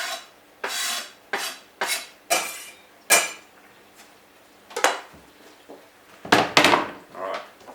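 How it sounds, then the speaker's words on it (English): Mushrooms dropped into a chicken casserole pot, a series of separate clattering knocks and scrapes against the pot, close and fairly loud, with short gaps between them and no talking. "Mushies in."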